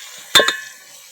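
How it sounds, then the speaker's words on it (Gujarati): A utensil scrapes and clinks twice in quick succession in a pot of stuffed eggplant curry cooking with turmeric on a traditional clay stove, followed by a faint quiet tail. "હળદર થોડીક વાર હલાવી નાખશું શાકને"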